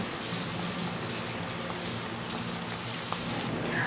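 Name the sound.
vinegar boiling in a pan for pork adobo with tofu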